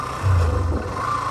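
A 125cc motorcycle weighing 138 kg revving up close, a short low throaty engine rise that swells briefly and then settles back to a steady idle rumble.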